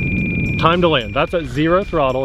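A steady, high-pitched electronic alarm tone from the low-voltage alarm on an E-flite Ultimate 3D 950mm RC biplane sounds continuously while someone talks over it.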